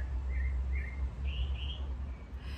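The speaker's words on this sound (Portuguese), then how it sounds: "Primeiro quero escutar, olha, os cânticos dos passarinhos." Birds sing outdoors with a few short, faint chirps in quick pairs over a low steady rumble, with no talking.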